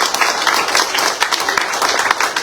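A church congregation at a Spanish-language worship service claps together for God, a brief burst of brisk, fairly loud hand clapping filling the room.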